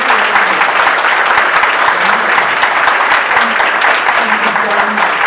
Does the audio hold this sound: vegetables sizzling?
no